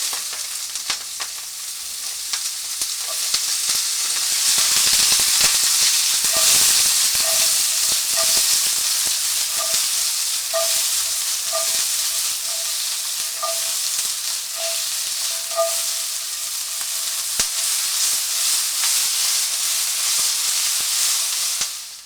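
Chopped onions frying in a hot pan as the start of a pork mole, a loud continuous sizzle and hiss heard up close with occasional light clinks of a utensil, no voices.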